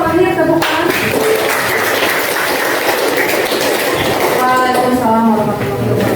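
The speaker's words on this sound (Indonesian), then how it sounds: "tepuk tangan" Applause from an audience at an academic supervision coaching session after the final group presentation, a dense steady clatter of clapping lasting several seconds, with background murmur and voices mixed in.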